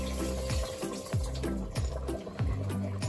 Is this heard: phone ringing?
no